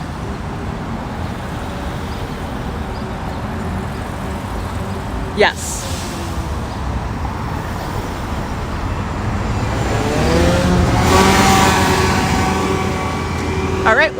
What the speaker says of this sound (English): Look at all these cars coming.